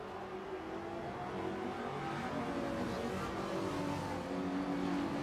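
Race cars at Brands Hatch in a racing video game, a pack of engines droning together at moderate volume with a steady, slightly wavering pitch as they head into the first corner.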